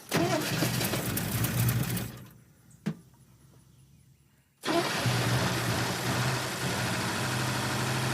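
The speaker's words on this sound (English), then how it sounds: "That doesn't sound like a very good engine." A loud, rough-running Bel Air engine with zero oil pressure runs continuously, cuts out for a couple of seconds with a brief knock, then roars back to a steady, uneven running.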